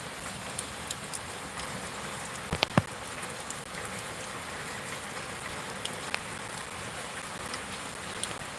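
Steady rain pattering on surfaces outdoors, an even soft hiss with scattered nearby drops and a couple of sharper taps, no talking.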